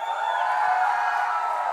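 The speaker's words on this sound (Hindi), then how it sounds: "एक बार जोरदार तालियां हो जाएं" Audience at the Ganapath press conference at Gaiety Galaxy applauding and cheering in a steady, dense wash of clapping that lasts the whole moment, with no speech over it.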